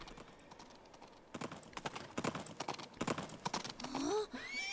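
Horse hooves clip-clop steadily in the Princess Peach Showtime video game, a quick rhythmic run of close hoofbeats that grows louder, ending with a brief whinny-like sweep of sound.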